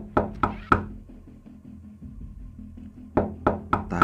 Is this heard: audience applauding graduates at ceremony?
no